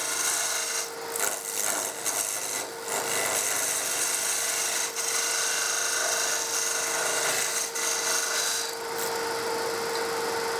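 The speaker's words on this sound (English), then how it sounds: "So parting tool first. Three widths of the parting tool." Wood turning on a lathe with a parting tool cutting into the spinning workpiece: a steady, continuous rasping scrape over a constant motor hum, close and fairly loud, with brief dips as the tool eases off.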